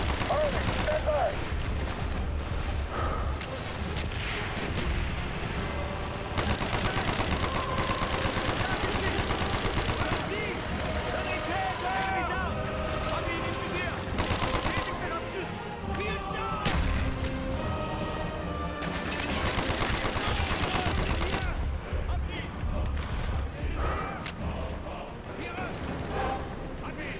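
Call of Duty: Black Ops campaign combat blares continuously with bursts of gunfire, explosions and crashing effects, while voices shout beneath the dense, loud din.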